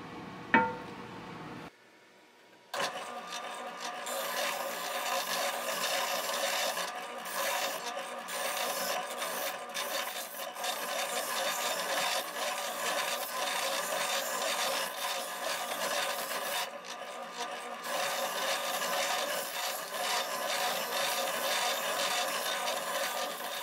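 An 80 grit sanding drum grinds steadily against knife handle scales, shaping and contouring them in a continuous rasping whir after a short start and brief pause, with small shifts in pressure throughout.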